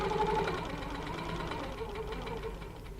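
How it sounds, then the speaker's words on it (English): Handi Quilter longarm quilting machine stitching across a ruler, a steady, close motor hum with a rapid rhythmic needle chatter that continues without pause through the short stretch. "I'm going to stitch all the way across"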